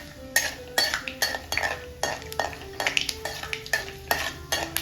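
Peanuts fry in a pan over medium heat for lemon chitranna, stirred with a metal spoon that clinks and scrapes in a quick, steady rhythm of repeated strokes over a faint sizzle, close and clear.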